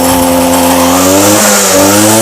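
A small 1.8 hp two-stroke Makita backpack brush cutter engine runs loudly and steadily close by, its buzzing pitch dipping briefly and then recovering.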